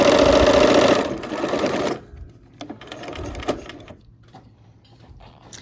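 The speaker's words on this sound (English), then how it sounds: "Okay, so now we will go ahead, stitch this together." A sewing machine stitches quilt block pieces for a Christmas block-of-the-month quilt: a fast, loud, steady whir of running stitches for about two seconds, then quieter clicks and handling sounds close by.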